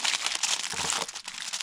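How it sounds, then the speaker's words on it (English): Wrap is folded snugly around a whole lake trout to seal in the juices, producing close, continuous crinkling and crumpling for a brief moment. "So I can seal in all the juices. Fold up the end."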